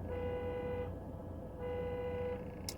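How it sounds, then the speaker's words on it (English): A car alarm sounds outside, a faint steady electronic tone that shifts pattern partway through, heard alone with no talking. "the damn alarm going off"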